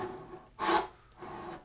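A hand saw cuts a kerf along the top of a wooden window half lap joint: a few close rasping strokes, one strong stroke in the middle and softer ones either side, no speech.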